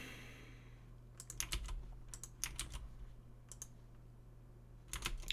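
Computer keyboard keys clatter in short bursts of quick typing, several clusters of clicks separated by pauses, close but fairly quiet against a low steady hum.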